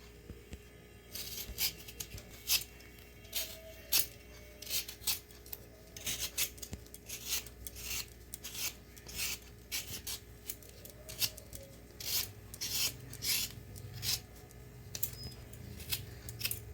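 Mangoes being peeled by hand for a mango kasundi recipe, a quick run of sharp scraping strokes repeated in an uneven rhythm, close and fairly crisp against a quiet kitchen background.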